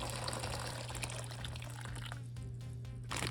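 Hot water pours steadily into a bag with a continuous gushing splash, fairly close, then briefly thins before resuming.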